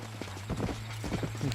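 Horse hooves clip-clop in the video game Red Dead Redemption, a quick run of soft hoofbeats at close range over a low steady hum.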